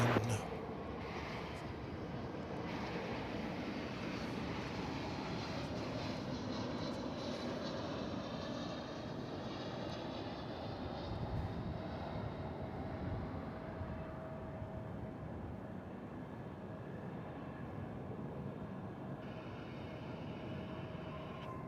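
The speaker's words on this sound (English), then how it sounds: "It's American Flight 1741, an Airbus" An American Airlines Airbus A321 jet airliner at Dallas/Fort Worth Airport rumbles in a steady, broad engine roar that slowly fades, heard at a distance with faint talk over it.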